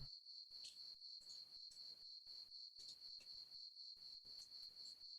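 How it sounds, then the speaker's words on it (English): Crickets chirp at night in the dark, a steady high trill pulsing in quick regular bursts, moderately faint and continuous with no other sounds. "just sitting, listening to the crickets"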